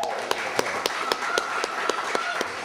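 An audience applauds at a 2007 poetry reading in the Bayview Branch Library, with evenly spaced, rhythmic claps sounding moderately close over a low room murmur.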